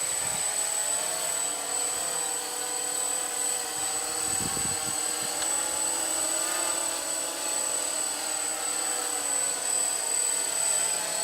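A 3D X8 six-axis 2.4G 8-channel GPS RC quadcopter hovers under GPS lock, its steady high-pitched rotor whine droning without a break and staying loud and close, with a few low outdoor bumps partway through and no talking.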